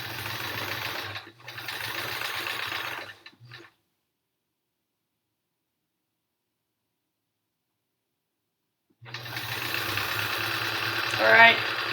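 A sewing machine stitches quilt rows for the Triangle Tango quilt in close, steady whirring bursts, broken by a long silent pause before it starts again.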